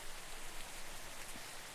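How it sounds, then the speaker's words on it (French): Light rain from a game-engine weather asset hisses as a steady, even wash of fine droplets, continuous and alone with no voices. "celle pour la pluie légère"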